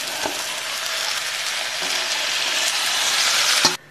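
Fish and tofu frying together in a hot wok: a loud, continuous close sizzle that swells slightly over several seconds, with a few scraping stirs, then cuts off abruptly near the end.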